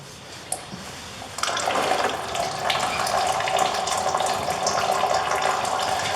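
Transmission fluid drains from a Citroen C15 gearbox, a steady close splashing pour like a running tap that starts after a brief quiet moment and keeps flowing.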